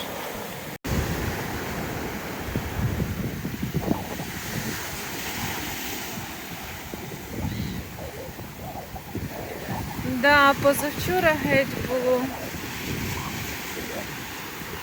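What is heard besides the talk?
stormy sea waves and wind at Odesa shore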